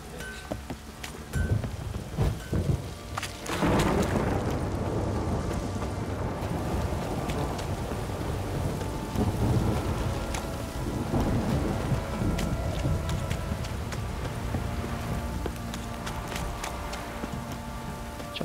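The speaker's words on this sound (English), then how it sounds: "If it don't stop raining, my arse will rot off." Steady heavy rain with rolling thunder fills a stormy scene in The Witcher 3: Wild Hunt, a loud crack near the start giving way to a continuous dense downpour.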